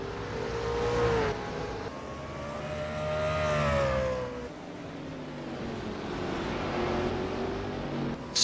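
Race cars lapping Kalamazoo Speedway, engines droning and whining at a distance with rising and falling pitch as cars circle the oval, a steady muffled roar throughout.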